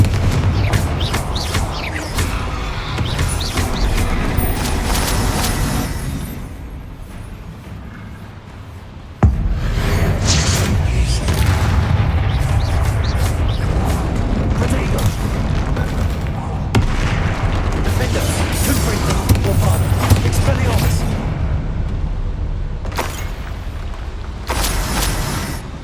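Confringo blasting spells and other combat spells explode repeatedly during a Hogwarts Legacy fight, a steady barrage of booming blasts and crackling impacts, loud and continuous, with a brief lull before the explosions resume.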